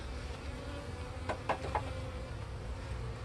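Honey bees from a newly installed package buzz in a low, constant hum close by, with a few louder passes as individual bees fly near.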